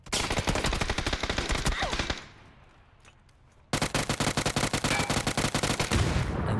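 Gunfire and a grenade blast in the PC shooter PUBG: dense, loud automatic bursts, a sudden drop to a quieter lull, then rapid firing resumes just as hard, close and continuous with no talk.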